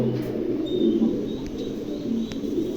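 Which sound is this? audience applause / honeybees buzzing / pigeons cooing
pigeons cooing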